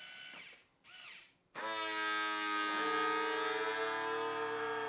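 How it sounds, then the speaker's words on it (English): A Calmdo automatic vacuum sealer pumps air out of a bag with a loud, steady motor whine that starts abruptly after a few quiet clicks and drones on evenly, nearby and alone. "it'll start to vacuum out the bag"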